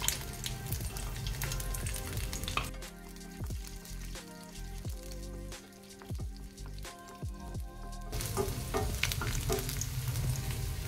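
Garlic sizzles steadily in hot oil for kuzhambu, a close continuous crackling fry broken by bursts of spoon stirring against the pan, with no talk.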